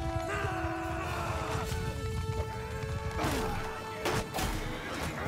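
A horse whinnies as it is struck amid clashing battle noise in Mount & Blade II: Bannerlord, with sharp impacts and crashes cutting through a busy, layered game soundscape.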